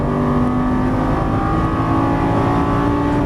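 A Lamborghini Gallardo LP550 accelerates on a racing track, its engine holding a loud, steady, droning roar close by with no talk over it.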